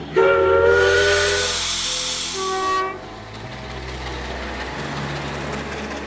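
An Indian Railways steam train whistle blows in one loud, sustained hooting blast lasting a few seconds, followed by a steady hiss and rumble of the train.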